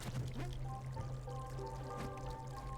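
Flowing, pouring water in a video game runs steadily through the whole short stretch, fairly close and continuous, with a low hum and faint game tones layered underneath.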